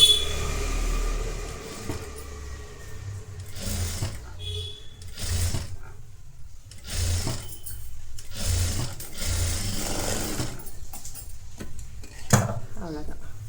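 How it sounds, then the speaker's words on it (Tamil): Sewing machine stitching in reverse along a blouse neckline, several short bursts of rapid mechanical needle clatter separated by pauses, close up, with someone talking in between. "இந்த சைடில் ரிவர்ஸ் பண்ணி ஸ்டிச் பண்ணிக்கோங்க."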